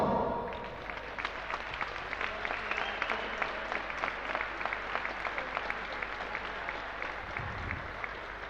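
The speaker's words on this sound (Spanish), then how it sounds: "Un aplauso." Applause from a crowd at a sports club's 2019/2020 season presentation as a team poses for a group photo: dense, steady clapping that fills the whole stretch at an even level.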